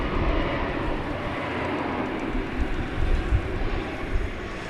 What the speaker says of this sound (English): here comes the flight from Santa Ana.